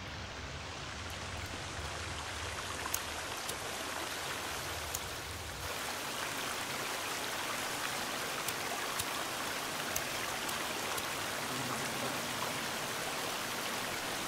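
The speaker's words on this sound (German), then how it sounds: "Wasserfall?" A waterfall in the survival video game The Forest roars as a steady, dense rush of water throughout, with occasional faint ticks and no talking.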